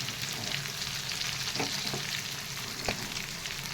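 Chicken 65 fries in hot oil with a dense, continuous close sizzle, steady and loud throughout, broken by a few soft stirring knocks and no speech.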